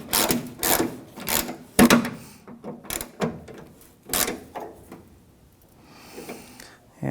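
A T45 driver tightens the tailgate latch bolt on a 1997-2003 Ford F-150 in a series of close, uneven ratcheting clicks and metallic scrapes with short pauses between turns.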